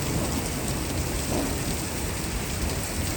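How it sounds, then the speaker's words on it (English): Heavy rain pours steadily during a severe springtime thunderstorm, a loud, dense, unbroken hiss of downpour with no clear thunder crack standing out. "Now that's a monsoon."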